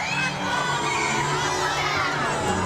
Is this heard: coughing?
no